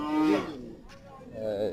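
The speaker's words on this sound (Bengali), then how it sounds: "এদিকে দেখা যাচ্ছে আরো কিছু গরু আছে" Cattle at a Qurbani cattle market moo nearby, one long low call followed by a shorter second moo amid faint background murmur.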